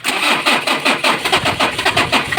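A car engine with a weak battery cranks with a slow, labouring, rhythmic churn and keeps turning over steadily. The sound is loud and close, with no speech.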